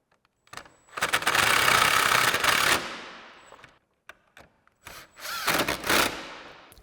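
A 7mm power driver runs screws back into a turn signal bracket on a 2015-2017 Mustang, with two loud bursts of whirring close up, each a couple of seconds long, separated by a quiet pause with small clicks.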